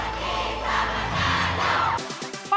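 A large crowd of Filipino supporters roars and shouts for the Philippines' Miss Universe candidate as she appears on screen, a loud sustained cheer that cuts off abruptly, followed by brief broadcast sounds.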